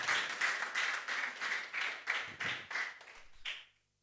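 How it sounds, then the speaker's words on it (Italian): A church congregation claps together in a steady rhythmic burst of about a dozen beats, moderately close, ending abruptly into silence. "of applause for Jesus."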